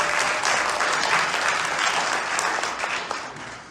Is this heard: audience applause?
yes